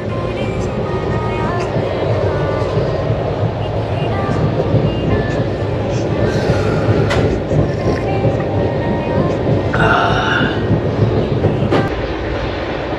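A Kolkata to New Jalpaiguri passenger train rumbles along steadily, with a constant low roar and occasional rattles and squeaks from the carriages.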